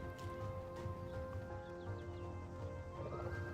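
A horse in the video game Black Desert Online whinnies and its hooves clip-clop as a player tames and mounts it, with game music tones running steadily underneath.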